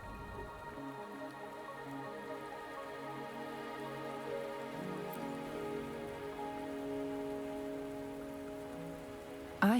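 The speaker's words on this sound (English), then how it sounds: "Are you trapped here by the rain?" Rain falls steadily in Wuthering Waves as a soft, continuous patter, with tonal in-game ambience layered over it and a brief louder burst at the very end.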